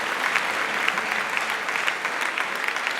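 Congregation in an ADEPR church in Gisenyi clapping together, a dense, steady wash of applause filling the room for the full stretch without a break.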